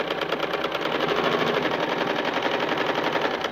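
Sewing machine stitching a sleeve seam about half an inch in from the edge, a fast, even mechanical whirr and clatter that runs nonstop, close up and alone.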